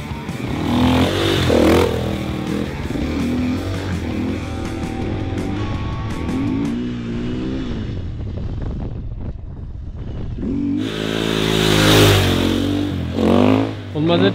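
A KTM 450 EXCF dirt bike fitted with a handbrake rides and revs, its engine note rising and falling through throttle bursts, loud and close with wind buffeting, while people talk over it.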